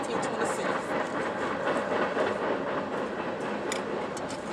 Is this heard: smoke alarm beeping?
no